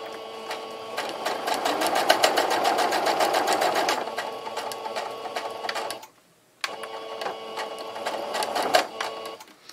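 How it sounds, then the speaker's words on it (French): A domestic sewing machine stitching fabric for a homemade sponge runs in a fast, steady mechanical rattle, stops briefly, then starts again, close and clear with no talking. "Je vais coudre"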